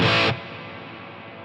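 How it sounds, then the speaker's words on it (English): A loud distorted guitar chord is struck and cut off, leaving a long reverb tail that slowly fades. "we hear that we've extended the time before that reverb tail goes away"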